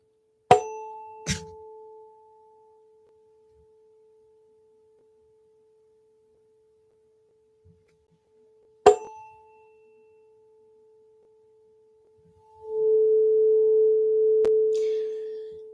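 Struck resonance tuning forks ring out as clean, sustained pure tones, with a few distinct strikes that each hum and slowly fade, then a louder steady tone near the end.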